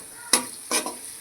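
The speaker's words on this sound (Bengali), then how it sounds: "এবার এই আদা রসুনকেও তেলের ওই পেঁয়াজের সঙ্গে কষিয়ে নেব।" Ginger and garlic paste with green chillies hits hot oil with onions in a pan, giving two short sharp sizzling bursts as it is stirred, close and otherwise quiet.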